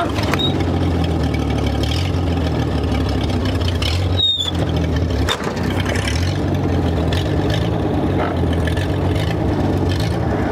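A 1962 American Rambler engine idling roughly after sitting locked up for decades, a loud, continuous low rumble with uneven pulsing and a short clunk midway.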